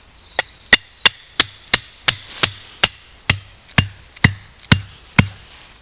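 Steady hammer blows on a perimeter alarm kit, about fifteen sharp, ringing metallic strikes at an even pace, close and loud, each with a brief bright ring after impact and no talk.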